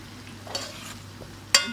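Lamb sautés lightly in butter in a pan for butter karahi, a soft steady sizzle up close with a brief utensil clink near the end.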